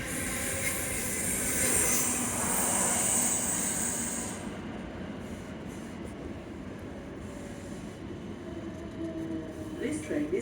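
South Western Railway train running from Waterloo toward Shepperton, a steady rumbling roll heard from inside the carriage with a high hiss that cuts off partway through, leaving a lower, even drone.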